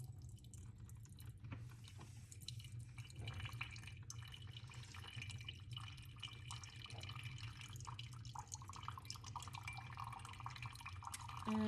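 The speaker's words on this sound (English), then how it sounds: "Oh, it's starting to drip." A hot chocolate K-cup in a coffee brewer drips and trickles steadily into a cup under a low machine hum, faint and close, with no one talking.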